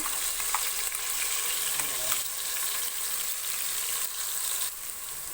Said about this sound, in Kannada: ಇವಾಗ ಮಸಾಲೆಯನ್ನು ಕೂಡ ಒಗ್ಗರಣೆಯಲ್ಲಿ ಚೆನ್ನಾಗಿ ಫ್ರೈ ಮಾಡ್ಕೋಬೇಕು